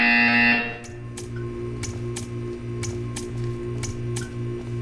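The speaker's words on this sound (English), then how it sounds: "You will hear a buzzer." A loud electronic buzzer in the video game Portal 2 blares for about a second, then a steady hum continues with regular faint ticking clicks.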